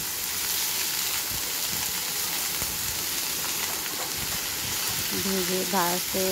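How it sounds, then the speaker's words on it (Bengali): Cabbage and other vegetables fry in oil in a wok, a steady, loud sizzle that holds throughout, with a voice briefly breaking in near the end. "বাঁধাকপি আর বাকি সবজিগুলো দিয়ে ভালো করে তেলে দিয়ে কড়াই দিয়ে ভেজে নেব"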